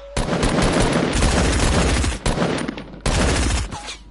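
Dense, loud bursts of rapid automatic gunfire in a shooter video game, two long volleys separated by a brief pause, with no talking over them.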